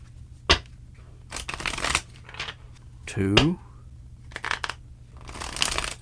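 Tarot cards being shuffled in short crisp riffling bursts, several separate shuffles spread across the clip, close and clear, with a brief spoken count in between.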